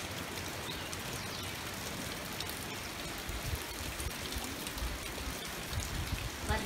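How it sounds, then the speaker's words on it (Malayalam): Light rain drizzling steadily outdoors, a soft continuous patter of drops on surfaces, fairly faint and even throughout with no voices. "ഞാൻ വെറുതെ ഇരിക്കുന്ന മഴ ഇപ്പൊ പോകുന്നുണ്ട് ചെറുതായിട്ട്, ഇപ്പൊ പാറലേ ഉള്ളൂ"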